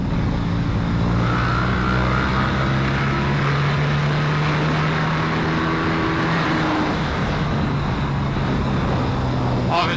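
A KTM RC8 motorcycle engine pulls hard through the gears, a loud, steady drone with rising harmonic tones that climb toward redline and shift. It sounds close and continuous for the whole stretch, with faint wind noise mixed in.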